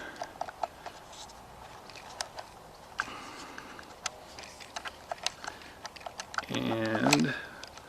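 Film being loaded into a Fuji GW690III medium-format camera: a run of small, close, sharp clicks and ticks, then a brief louder rattling crinkle near the end, with no talk.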